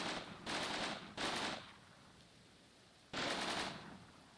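Heavy machine gun fire in the Combat Mission wargame, three sustained bursts of roughly half a second each, fairly distant and even in loudness, with quiet gaps between them.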